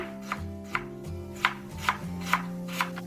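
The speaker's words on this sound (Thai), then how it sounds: "หั่นเป็นแว่นเลยค่ะ แล้วก็หั่นบางๆนะ" A knife slices lemongrass thinly on a cutting board, six or seven crisp, evenly spaced strikes over a low background hum.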